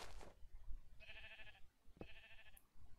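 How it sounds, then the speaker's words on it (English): Two distinct bleats from Minecraft sheep, each a short wavering cry about a second apart, set over quiet background thumps and faint noise. "I'm just making the sheep first."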